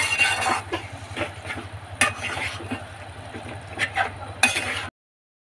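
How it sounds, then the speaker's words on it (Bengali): Chicken being stirred into a spice masala in a pan for Bengali chicken kosha: scraping stirs and soft sizzling repeat unevenly for about five seconds, with a few sharper clinks, and nobody speaks. "চিকেনটা দিয়ে ভালো করে নাড়িয়ে নেব।"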